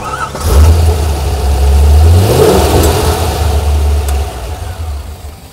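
A motorcycle engine on a 625 cold cranking amp dresser battery cranks briefly, catches and starts, then settles into a deep, loud, close idle with a short rev partway through.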